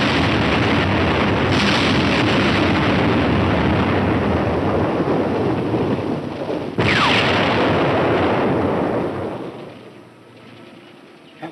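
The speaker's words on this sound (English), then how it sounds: "From the sound of the explosions, they missed." Heavy, rumbling bomb blasts in a WWII war film roll on continuously, with a fresh sharp explosion midway, before the roar dies down into a low distant murmur.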